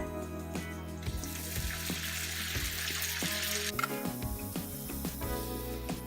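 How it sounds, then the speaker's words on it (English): Garlic and kimchi sauté in a pan with a steady close sizzle and soft crackling throughout. Brief clinks and stirring knocks break into it now and then. "We're gonna let this saute in the pan for a couple minutes just to develop some flavors"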